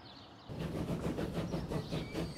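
A train rolling along in the Transport Fever railway simulation, a steady low rumble with faint rhythmic clatter after a quiet start, moderately distant and without talk.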